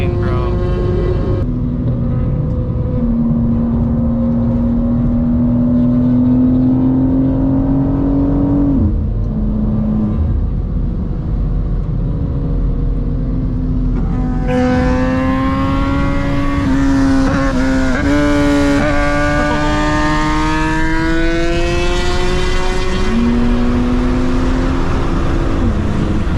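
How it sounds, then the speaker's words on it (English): BMW G87 M2 engine pulls hard under acceleration during top speed runs with a 1000cc superbike, its loud droning note climbing steadily, dropping sharply at a gear shift, then rising again, with occasional voices over it. "you hear the shift on that thing? Sounds like the M2."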